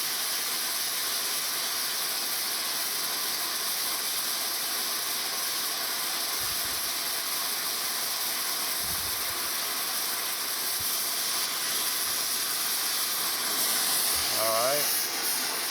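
A torch flame melting braze on part of a New Haven metal planer hisses as a loud, steady roar throughout, with a few low knocks and a brief spoken word near the end.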